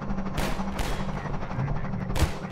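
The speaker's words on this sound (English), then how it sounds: "Stop shooting me, man!" Gunfire in the Half-Life 2 video game, a few sharp bursts of shots standing out over a continuous rumble of game noise, fairly close and loud.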